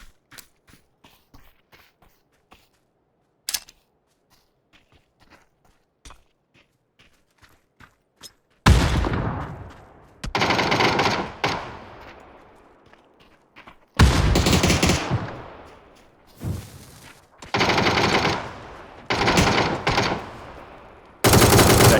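Bursts of rapid automatic gunfire in PUBG on PC, loud and close, firing in several sustained volleys after a stretch of quiet footsteps and faint distant shots.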